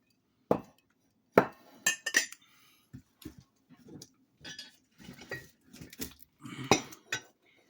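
Ceramic mugs and dishes at a sale being set down and shuffled, giving scattered light clinks and knocks at close range with quiet gaps, and no talking.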